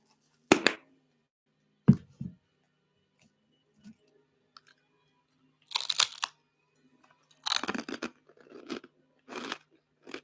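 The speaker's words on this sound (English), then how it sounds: "Is my chewing too loud?" A person eats crunchy food close to the mic while watching a horror movie, producing scattered bursts of loud crunching and chewing separated by silent pauses.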